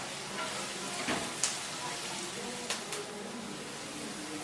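Sliced onions with a pinch of salt sizzle softly in a pan as they are stirred for a liver curry, a low steady frying hiss broken by a few sharp spoon scrapes and clinks.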